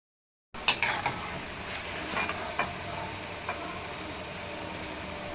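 Bonda frying in hot oil, a soft steady sizzle and bubbling that starts abruptly after a brief silence, with a few faint clicks and taps, quiet and close with no talking.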